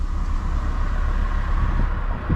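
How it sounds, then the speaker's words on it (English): A 2020 Toyota Supra drives in sport mode with its exhaust valves open and windows down, giving a steady, loud engine and exhaust drone with road rumble that holds throughout, no voices. "I just want you guys to be able to hear the exhaust and all the noises it makes when you're just driving it"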